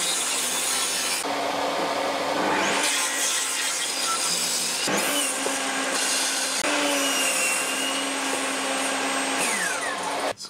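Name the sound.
sawing a wooden piece lengthwise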